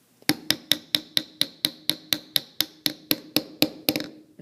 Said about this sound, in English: Just tap it down, and eventually you'll feel resistance where you can't tap anymore, and you'll actually hear the sound of it get louder.